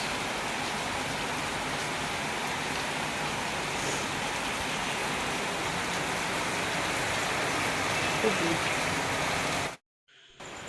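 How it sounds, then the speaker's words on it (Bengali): Heavy rain pouring outside a home with wind, a steady dense roar of falling water that runs unbroken for about ten seconds before cutting off abruptly near the end. "দেখো কি বৃষ্টি হচ্ছে।"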